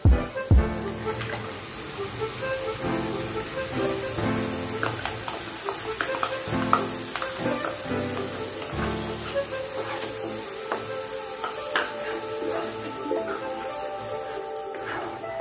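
Tomato puree fries and is stirred in a pan, a steady bubbling sizzle broken by repeated spatula scrapes, with soft music playing underneath.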